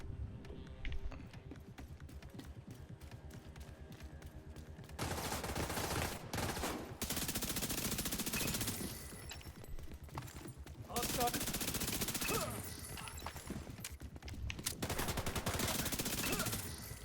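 Sustained automatic gunfire from The Division 2 on Xbox, loud dense bursts that come in long stretches with brief lulls between them, a player's voice occasionally over the shooting.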